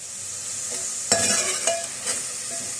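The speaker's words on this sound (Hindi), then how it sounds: "अब इस मसाले को हम भून लेते हैं।" Spice masala with whole round red chillies frying in a pan, a continuous hiss with a couple of scraping stirs, close and fairly loud.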